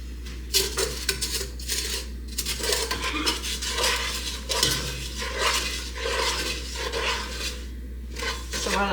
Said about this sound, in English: just mixing the corn syrup and sugar